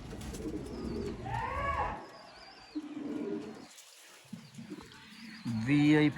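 Low cooing from Sialkoti pigeons in a breeding loft, with higher bird calls and chirps, a brief quiet gap partway, then louder close calls at the end.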